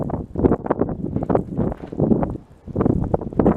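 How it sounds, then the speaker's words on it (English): Strong gusting wind buffets the microphone in rough, loud bursts, a brief lull partway through before it roars back. "Yeah, and it's very windy"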